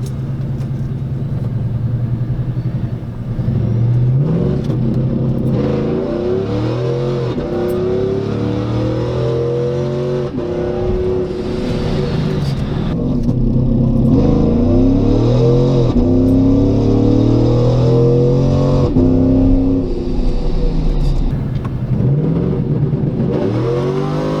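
A Procharged GMC Sierra truck accelerates hard from inside the cab, its supercharged engine roaring loud and close, with repeated rising revs and gear shifts over a constant heavy rumble.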